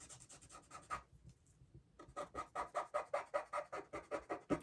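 A charcoal pencil scratches across paper while drawing hands: a few rasping strokes, then a brief pause, then a quick rhythmic run of short scratchy strokes, close and fairly quiet.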